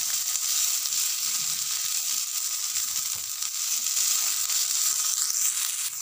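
Cubed potatoes and small-cut eggplant frying in oil for a khesari greens dish, a steady dense sizzle running throughout with faint stirring scrapes underneath, close and continuous with no talk.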